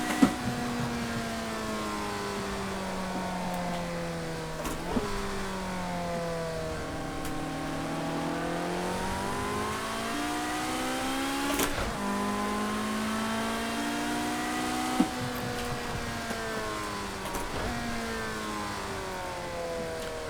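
A classic Ferrari supercar engine in the Project CARS 2 racing game revs and shifts through gears repeatedly, its tone climbing, dropping at each change and climbing again, loud and sustained with no talk.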